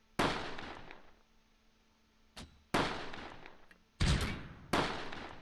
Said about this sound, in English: Oh, more mortars coming in.